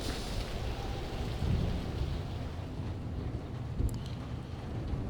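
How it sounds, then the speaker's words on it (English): Continuous patter of rain drumming on a thin tin roof in the video game Alien Swarm: Reactive Drop, with a low rumbling ambience underneath, even and unbroken. "you can hear the tin roof rain sound"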